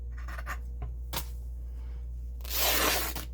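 Paper being cut for a handmade fabric-flip journal, with a few soft snips and rustles followed by a louder, longer tearing or cutting burst near the end. The sounds are close and clear, and no one speaks.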